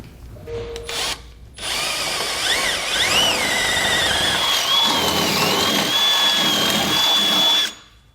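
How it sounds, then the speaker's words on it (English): A power drill bores through the steel of a Roadmaster Direct-Connect base plate on a 2015 GMC Sierra, a loud, steady whine with a rising pitched tone after a brief start and stop, running continuously for several seconds before cutting off. "we can drill out through this portion of the steel"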